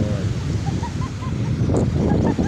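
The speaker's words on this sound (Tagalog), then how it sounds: "malakas ang alon, pasok ang tubig yan." Strong sea waves wash in at a Mindoro shoreline under gusty wind buffeting the microphone, a dense steady roar that swells louder in the last second, with no voices.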